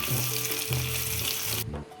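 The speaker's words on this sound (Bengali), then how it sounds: "এবার কুচিয়ে রাখা টমেটোকে ভালো করে তেলের মধ্যে ফ্রাই করে নেব।" Chopped tomato fries in hot oil with a steady sizzle and some stirring scrapes, close and moderately loud with nobody talking, and the sizzle drops off sharply near the end.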